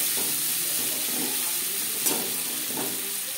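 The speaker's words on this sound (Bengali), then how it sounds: "পেঁয়াজ লালচে করে ভেজে নেব" Chopped onions fry in oil in a pan for a banana-stem bhaja, a steady, loud, close sizzle with a few soft stirring scrapes, and no voices.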